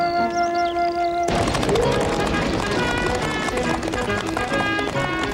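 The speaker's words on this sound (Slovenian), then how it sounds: "Slišal se je topot konj in sokolkov lajež." Galloping horses' hooves as a cartoon sound effect, in a fast dense drumming that starts abruptly after a sustained tonal note and keeps going loud under a busy mix of other sounds.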